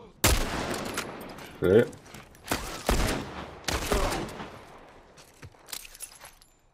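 Gunfire in the video game The Last of Us, heard as several sharp shots spaced irregularly, with a brief word spoken between them.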